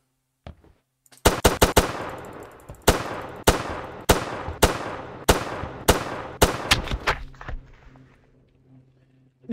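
Gunfire from a horror video game: a rapid opening burst followed by a steady string of about a dozen loud, sharp single shots at roughly half-second to one-second intervals, close and punchy, tailing off into a faint low hum.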